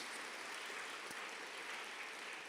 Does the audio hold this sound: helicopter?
no